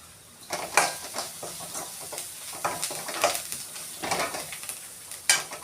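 Ground coconut paste for taro curry is stirred and fried in a pan, giving a steady sizzle broken by repeated scraping and clinking strokes of a spoon, close and fairly loud, with no talk.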